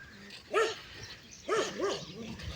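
A village dog barks a few times at a moderate distance, two or three sharp barks separated by short pauses, fairly quiet against a calm background.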